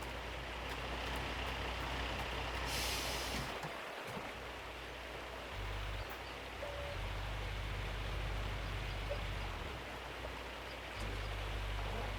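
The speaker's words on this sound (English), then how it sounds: "Drive a truck right here." Heavy mining truck engine in Gold Mining Simulator, a low diesel drone that idles and revs in steady stretches, with a brief hissing burst like an air brake release early on and a broadband rushing bed throughout.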